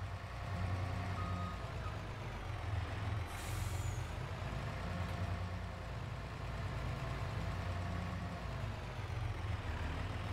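A truck in Farming Simulator 22 releases its air brakes with a brief hiss over a steady loud engine drone that runs throughout.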